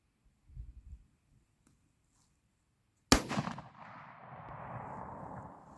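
A single sharp rifle shot cracks loud and close during grouping practice for coyote hunting, then rolls away in a long fading echo after a quiet lead-in.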